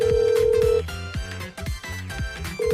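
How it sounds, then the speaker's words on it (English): A phone rings in the Blue Archive game, calling a burner phone with a repeating electronic ringtone over game music, tone bursts starting, pausing and resuming in a steady pattern. "I called Rio's burner phone."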